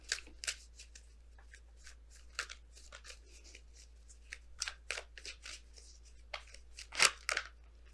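Tarot oracle cards being shuffled and pulled from the deck, heard as soft, close riffling and flicking card sounds in irregular bursts, with one sharper snap near the end, against a quiet background hum.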